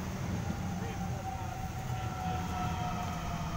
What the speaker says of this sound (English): we also have a freight train. That's arriving, by the way, not passing.